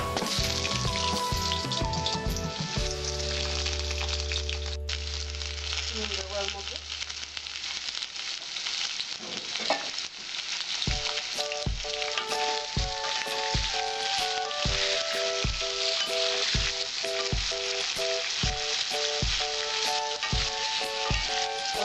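Potatoes and a bay leaf frying in oil for a vegetable papaya curry, a continuous bright sizzle running underneath loud background music for the whole stretch.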